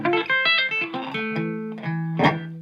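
An electric guitar plays a fast sweep arpeggio through an effects unit, a quick cascade of distinct picked notes finishing on a thick, low E that rings at the end.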